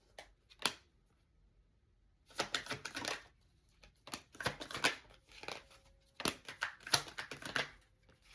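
A tarot deck is shuffled and a card drawn, giving close, crisp papery riffles and slaps in bursts separated by short pauses.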